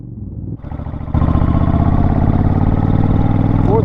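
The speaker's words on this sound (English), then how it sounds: "It sounds like a very powerful motorcycle." A Suzuki Intruder 1400 motorcycle engine runs close by, rising from a low idle to a louder, steady, deep throbbing rumble after about a second, with harmonic pulses held to the end.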